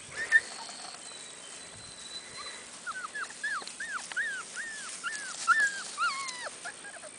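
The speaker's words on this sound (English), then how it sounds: "these puppies were born January 26, 2016, out of Nevena and Tuvia." Young black male puppies born in late January whimper and whine in a quiet room. A series of thin, high, rising-and-falling cries comes in quick succession, close but soft, with faint rustling beneath and no talk.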